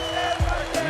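Cricket crowd roaring for Temba Bavuma's maiden Test century, a dense, loud wash of cheering with a brief low thump in the middle.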